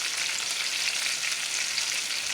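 Cut celery stalks frying in a pan for gravy, a bright, constant sizzle that stays loud and steady with no talking.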